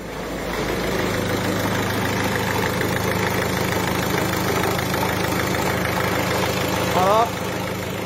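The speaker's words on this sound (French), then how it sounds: "Donc là c'est bien mieux, on l'entend déjà, il n'y a plus de bruit d'injecteur." A Peugeot/Citroën 1.6 HDi diesel engine idles steadily and close after an injector seal repair, with an even mechanical clatter, a low hum and a brief rise near the end. A voice talks over it.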